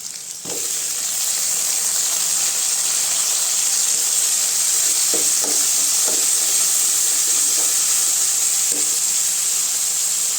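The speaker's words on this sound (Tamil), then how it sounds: "வெங்காயம் நல்லா வதங்கிருச்சுங்க இப்போ தக்காளி சேர்த்துக்கலாம்" Onions and tomatoes frying in a pan for a dried anchovy fish curry give a steady, loud sizzle and hiss, with a few soft stirring knocks, and no one speaks.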